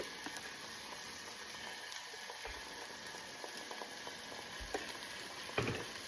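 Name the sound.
garlic cloves sautéing in a pan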